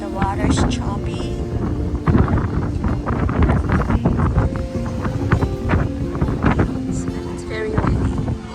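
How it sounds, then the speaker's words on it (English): Gusty wind at a poolside in Kona, Hawaii, with choppy water nearby, rumbles continuously and loudly against the microphone while faint voices come through in the background. "It's very windy."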